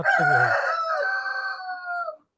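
A Tiger breed chicken on a poultry farm gives a brief cluck and then one loud, close crow that rises, holds and fades out within about two seconds.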